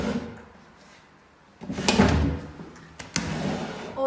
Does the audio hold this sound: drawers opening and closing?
yes